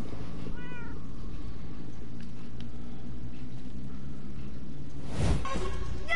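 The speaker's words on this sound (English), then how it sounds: "I knew it was a cat." A short meow sounds near the start over a low humming background in Minecraft: Story Mode, followed later by a louder, rougher cat cry.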